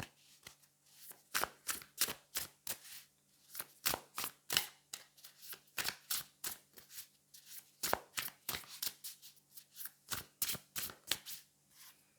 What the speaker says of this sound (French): on va aller prendre trois cartes trois cartes du tarot pour voir un petit peu ce que ça vient nous donner